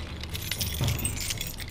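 Keys jangle close by in a quiet space, a short bright metallic clinking flurry with a faint low rumble underneath and no voices.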